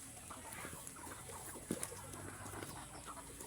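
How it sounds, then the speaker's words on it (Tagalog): Penned chickens clucking at feeding time on a farm, soft scattered clucks and scratching over a faint hissy background, with one brief louder knock midway. "Magpapakain po kami ngayon ng mga manok."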